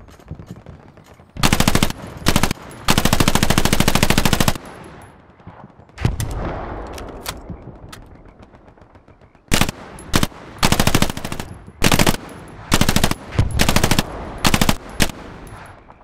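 Tommy gun submachine gun fire from the game Hell Let Loose, loud and close: long sustained automatic bursts, then a string of shorter rapid bursts separated by brief pauses with fading echoes between.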